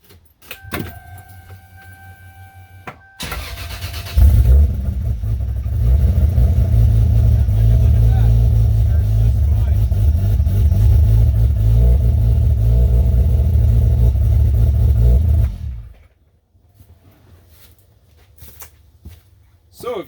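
A Toyota Supra running on a supercapacitor instead of a battery cranks and fires up after a few seconds of faint clicks, then runs loud and steady for about ten seconds before shutting off.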